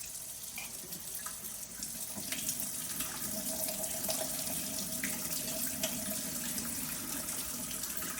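Tap water runs steadily into a kitchen sink or bowl as rice is rinsed to wash out the starch, a continuous soft splashing rush with no talking.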